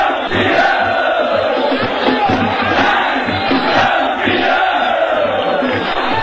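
Confiança football supporters fill a stadium with loud, sustained rhythmic shouting, a massed chant rising and falling in steady waves without pause.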